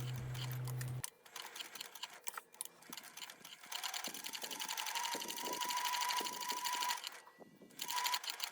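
A sewing machine runs close and clear while top stitching a crossbody bag an eighth of an inch from the edges, in bursts of rapid needle clatter with short pauses between runs.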